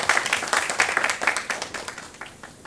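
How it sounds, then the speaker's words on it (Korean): Audience applause welcoming a lecturer to a citizens' forum lecture on cultural heritage, a dense burst of many hands clapping that gradually thins and fades over a few seconds with no talking. "큰 박수로 맞이해주시기 바랍니다"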